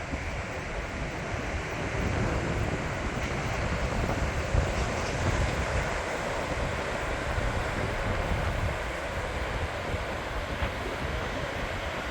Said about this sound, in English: Today it's a little bit windy